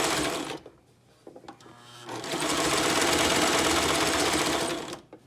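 A sewing machine stitches elastic onto a fabric mask, running loudly and steadily in two bursts, a short run, a pause with a light hum, then a longer continuous stretch of stitching before stopping.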